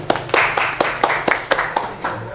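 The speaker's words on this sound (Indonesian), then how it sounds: "tepuk tangan semuanya" An audience claps for a guest, the acting regent of Majalengka, in a rhythmic pattern of loud unison hand claps spaced roughly evenly apart, close and fairly strong with no talk.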